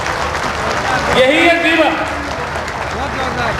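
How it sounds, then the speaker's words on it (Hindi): Audience at a foundation-stone ceremony in Sujangarh applauds, a moderate crowd clapping that swells briefly mid-clip under a speaker's amplified voice. "जोरदार ताली बजा दीजिए"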